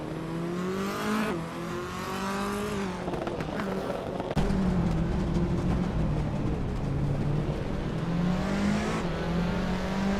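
A 2015 Mercedes-Benz A45 AMG race car in a racing video game, engine revving and shifting through gears with rising and dropping pitch, loud and continuous alongside other cars' engines.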